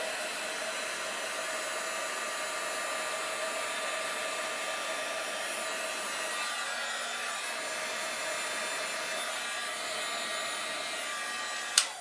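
A heat tool blows hot air steadily while heat-setting embossing powder on berry details of a holiday card, a loud, even whooshing drone that runs alone for about twelve seconds and cuts off with a brief click at the end.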